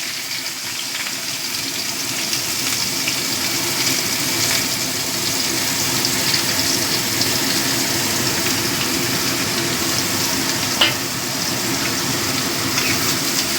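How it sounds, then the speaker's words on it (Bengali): Chopped onion fries in hot oil for a fish chop, a loud, steady sizzling hiss that runs continuously without talk. "পেঁয়াজটা একটু ভাজা ভাজা করে নেব।"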